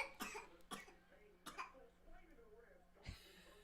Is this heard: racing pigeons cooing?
no